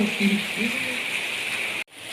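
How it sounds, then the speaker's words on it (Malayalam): Heavy rain falls outside during monsoon weather, a steady dense hiss that continues throughout, with a brief low voice near the start and a sudden momentary dropout shortly before the end. "നല്ല മഴയാണ് കേട്ടോ പുറത്ത്"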